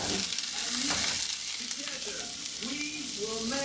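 Two onions sizzle and fry in a pan for a cheesesteak with peppers and mushrooms, a steady crackling hiss running throughout with the soft scrape of stirring, close and fairly loud, with no talk.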